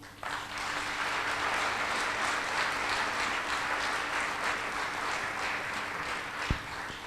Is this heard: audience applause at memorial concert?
yes